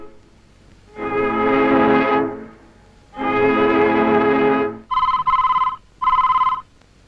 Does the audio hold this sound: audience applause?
no